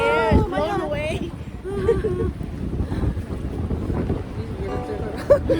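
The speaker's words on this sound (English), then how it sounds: "The wind is blowing right onto our Blowing our face." Strong wind at a cold beach in White Rock, blustering across the microphone with waves underneath while people talk close by.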